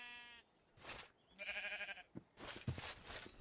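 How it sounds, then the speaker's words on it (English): Sheep bleating in the Minecraft video game, a few short separate bleats at close range with brief pauses between them and no talk over them. "We need to shear some sheep"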